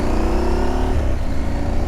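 A Husqvarna Norden 901 motorcycle being ridden, its engine giving a loud, steady rumbling drone with a slight dip in revs partway through, heard close and without talk.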